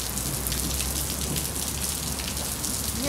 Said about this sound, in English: now we have all kinds of rain